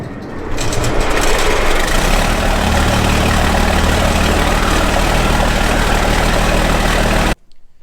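Case IH 2+2 tractor engine started and running, a loud, dense, steady rumbling roar that holds constant for several seconds before cutting off abruptly.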